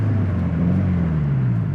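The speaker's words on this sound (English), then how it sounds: "I could honestly just listen to that turbo all" Turbocharged Subaru STI with a stock-block engine making 457 wheel horsepower, a loud, steady droning engine note that rises slightly in pitch and then eases back, heard alone.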